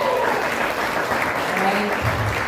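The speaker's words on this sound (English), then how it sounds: "give it up for Bernie Mac" Audience applause for comedian Bernie Mac at a comedy club show, a steady wash of clapping across the whole stretch with some crowd voices mixed in.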